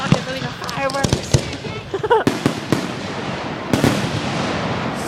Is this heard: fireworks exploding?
yes